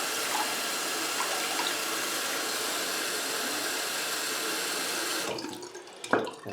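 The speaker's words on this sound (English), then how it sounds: "I'm going to run cold water." Cold water pours steadily from a tap, filling a container of seeds for a soak after hot water treatment. A constant close rush continues until the flow is shut off near the end, followed by a few handling clatters.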